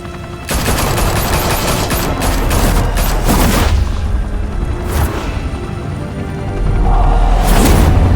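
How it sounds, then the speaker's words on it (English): Loud volleys of gunfire and booming impacts from a shootout in the Telltale Batman game, repeated bursts and crashes filling the whole stretch with no talk over them. "Open fire!"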